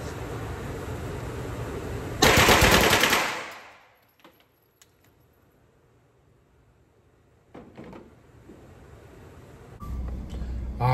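An AP5 pistol-caliber carbine fires a quick burst of loud, sharp shots in close succession at an outdoor range, followed by quiet and a few later clacks and handling noises.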